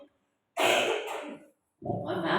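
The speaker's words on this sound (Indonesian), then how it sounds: "Mohon maaf agak batuk." A woman coughs twice close to the microphone, two harsh bursts separated by a short pause, in an otherwise quiet room.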